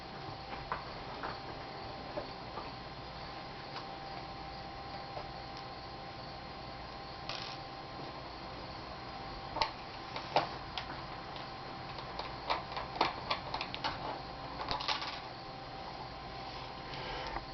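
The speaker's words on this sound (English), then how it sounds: "Now you can remove your cover screws." Small screws are taken out of the cover of an Asus X54C laptop, with faint scattered ticks and clicks from a screwdriver that grow busier and a little louder toward the end over a quiet background hum.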